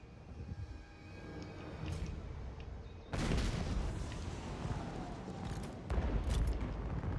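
Heavy booming cannon fire in Total War: Warhammer 2, loud and continuous, with a sharp jump in intensity partway through as more shots pile in.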